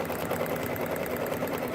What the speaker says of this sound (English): so here I have it hooped, and you can see it's stitching.